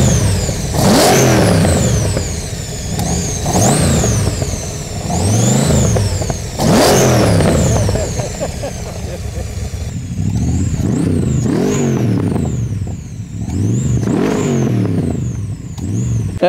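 A 1964 AC Cobra 427 SC Mk III with a 7-litre V8 revs in repeated loud swells, each burst of throttle climbing and falling in a steady rhythm close by, with a brief spoken word.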